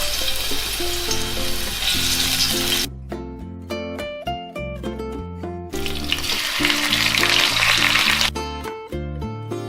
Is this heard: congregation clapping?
no